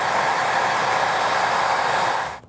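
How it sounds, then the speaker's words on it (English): Hair dryer blowing steadily at close range while drying paint on a handmade DIY dragon egg, a constant loud whoosh that cuts off near the end. "With the hair dryer, I was able to dry this enough to be able to touch it"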